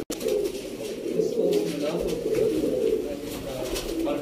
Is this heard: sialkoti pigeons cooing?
yes